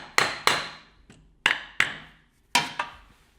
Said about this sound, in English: just make sure, you're braced when you're hammering